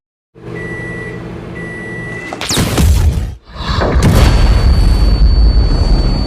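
Two short electronic beeps sound, then a loud, close blast erupts into a roaring rumble, with a second burst following moments later.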